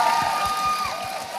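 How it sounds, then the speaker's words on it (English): A youth festival audience cheers and applauds for Guru Brahmarshi Pitamaha Patriji, a short burst of loud crowd noise with whoops rising over it. "Let us give a big round of applause for our Guru Brahmarshi Pitamaha Patriji"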